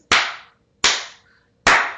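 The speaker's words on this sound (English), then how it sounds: "So when I clap my hands" Three single hand claps, each sharp and close, spaced evenly about eight-tenths of a second apart with quick decays and silence between.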